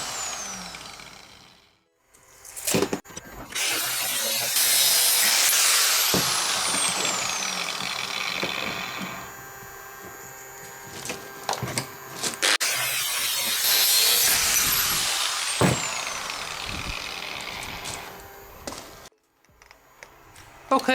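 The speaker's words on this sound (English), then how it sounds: "So this piece of pipe was used for something, so I have to cut it clean here." A stainless steel pipe once used for rolling rings being cut clean with a power saw in a workshop, a long steady grinding whine that runs in two sustained passes with a brief pause between them.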